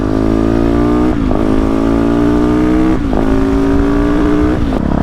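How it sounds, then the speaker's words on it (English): Yamaha YZ450F supermoto motorcycle engine revving loudly and close up, with strong harmonic engine tones climbing through repeated rev pulls and brief throttle drops between them, no talking. "Has to be one of the best sounding bikes I've ever heard"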